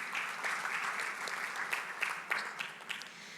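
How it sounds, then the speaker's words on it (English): A conference audience applauds steadily, a dense wash of many hands clapping from start to finish at a moderate level. "And a big round of applause for them"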